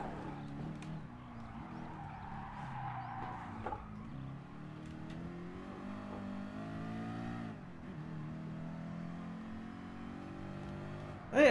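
Mercedes-Benz SLR engine in the racing game Gran Turismo Sport, a sustained fairly quiet engine drone rising and falling in pitch through gear changes and acceleration, with a sharp louder burst at the end.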